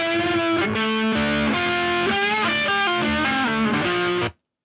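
A re-amped electric guitar DI signal runs through an Electron analog drive distortion pedal into a clean amplifier, playing a loud string of sustained, gritty distorted notes and chord changes with no voices.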